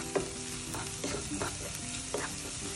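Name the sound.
sautéing onions with salt in pan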